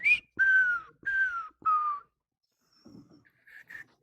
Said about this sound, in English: You can't whistle?